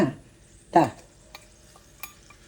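Fried ginger and green chillies tossed into a pan for an inji curry, with a soft background sizzle, one loud scraping stir near the start and a few faint clinks of a spoon against the pan.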